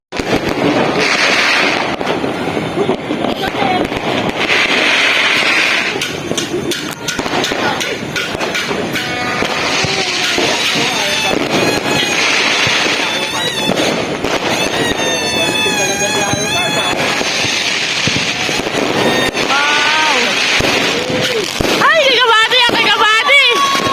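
Continuous New Year's Eve fireworks and firecrackers crackle and pop loudly for the whole stretch, dense and overlapping, with whistling rockets rising near the end and people talking underneath.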